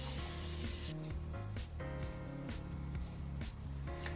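A carbide end mill does high-speed milling of a complex 3D shape, giving a steady tonal machining whine with layered harmonic hum and brief hissing bursts, close and continuous with no talk.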